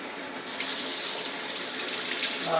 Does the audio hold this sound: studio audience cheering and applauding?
no